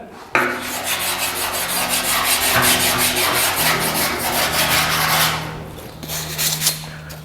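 Hand sanding over primer on the body of a 1950 Chevy truck, a steady close rasping rub running continuously for several seconds, loud and even, with a brief pause and a resumption near the end.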